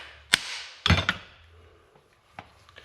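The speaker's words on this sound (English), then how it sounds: "the way you can solve it from being stiff is just smack right here" A hammer smacks a stiff front U-joint on a Ram 3500 4x4 to loosen it. There are four sharp metallic knocks: a single hit, a quick double, then a lighter tap after a pause, in a quiet workshop.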